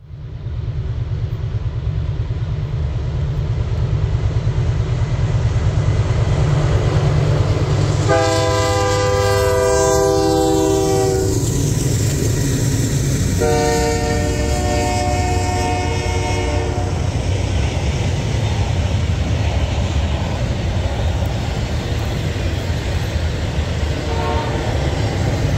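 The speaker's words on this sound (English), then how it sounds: "The reflection of the train speeding by off the water was awesome." A BC Rail 'Bluebird' train speeds past in Manitoba, sounding two loud horn blasts over a continuous rumble of passing railcars and wheel noise.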